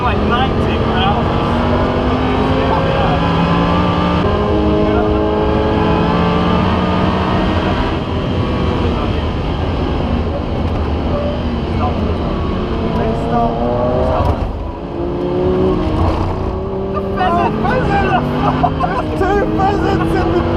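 An Audi R8 lapping Donington race track, its engine droning loud and steady from inside the car with wind and road roar, while people talk over it throughout.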